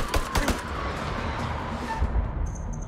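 Gunfire in the horror video game House of Ashes: a quick cluster of sharp shots at the start, then it fades into a steady low rumble of background game ambience.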